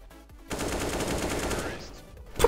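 Rapid bursts of video game gunfire in a first-person shooter, a sustained machine-gun volley lasting about two seconds, loud and close, with a sharper shot at the end.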